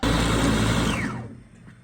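A blender runs loud and steady, grinding galangal, candlenut and fresh turmeric into curry paste for a Nyonya pineapple gulai lemak, then winds down and fades out in its final half second.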